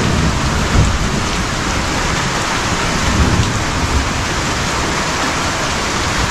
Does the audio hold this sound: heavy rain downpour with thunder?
yes